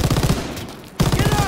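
German MG machine gun firing in Call of Duty WW2: two rapid bursts of close, loud rattling shots, separated by a brief half-second pause, with faint sounds in between.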